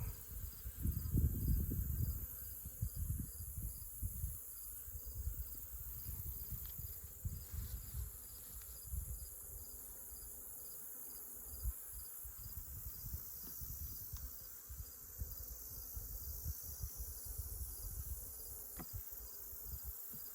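Honeybees swarming around loose comb from a weak hive, a continuous close buzzing hum with bursts of louder wingbeats near the start, fairly quiet overall and free of talk.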